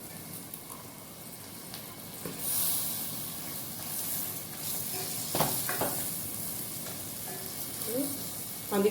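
Mushrooms frying in plenty of oil for a mushroom chukka give a steady close sizzle and hiss, broken now and then by stirring scrapes and a few sharper crackles toward the end.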